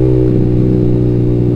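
A motorcycle fitted with a Ronin Black Katana racing exhaust with freshly replaced glass wool packing runs loud and close, a steady deep throbbing drone held at constant revs with a rough, pulsing texture.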